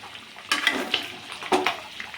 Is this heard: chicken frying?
yes